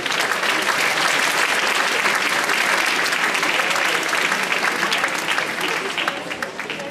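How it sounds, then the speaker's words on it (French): Sustained audience applause fills a school ceremony hall, dense and loud, with many hands clapping steadily before tapering off slightly at the end. "Allez-y, sous vos applaudissements"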